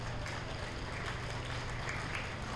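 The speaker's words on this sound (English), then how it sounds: "Let's give them a round of applause." Audience applause at a 4-H steer show, a steady wash of many hands clapping, faint and continuous throughout with no voices on top.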